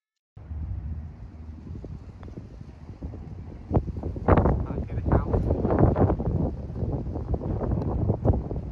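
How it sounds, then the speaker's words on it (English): Wind gusting across an outdoor golf course, rough buffeting on the microphone that swells louder partway through, with no speech. "That wind's blowing."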